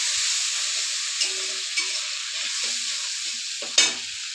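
Masala paste with water and turmeric sizzling as it is sautéed and stirred in a pan, a steady frying hiss with a few soft spoon scrapes and one sharper clink near the end.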